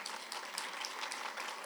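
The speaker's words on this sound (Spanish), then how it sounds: "Aplaudan al Señor." Congregation applauding during a church sermon, a steady dense wash of many hands clapping at moderate level throughout, with no speech over it.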